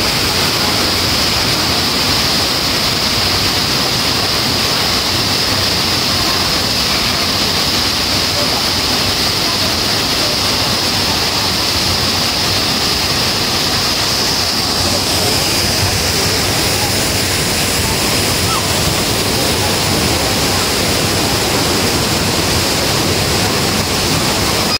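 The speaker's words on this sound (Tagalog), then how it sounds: "Napakaganda ng view, napaka-relaxing yung sounds ng falls." Mantayupan Falls, a tall waterfall in Cebu, roars as a loud, steady broadband rush of falling water that stays constant throughout, heard up close and without pauses.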